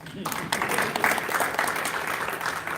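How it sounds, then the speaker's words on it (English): A crowd breaks into applause, steady clapping from many hands filling the room, with some voices mixed in. "I would like everybody to applaud, please."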